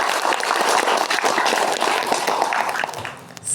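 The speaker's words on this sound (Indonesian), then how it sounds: "Bisa tepuk tangan sekali lagi" Dense audience applause at a gathering during a temple pilgrimage in Bali, many hands clapping loudly and continuously before tapering off briefly at the very end.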